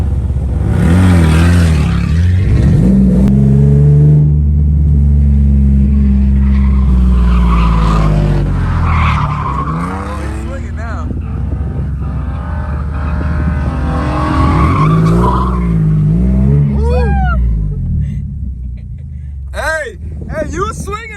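A 1985 Nissan 300ZX drifts with tires skidding and squealing, engine revving loudly and continuously up close, while people talk and shout over it.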